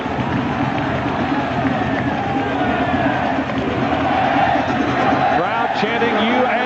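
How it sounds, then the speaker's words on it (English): A stadium crowd at a USA versus Brazil soccer match roars continuously, a dense wall of chanting and cheering with voices rising and falling, loud and sustained throughout. "Crowd chanting USA, USA."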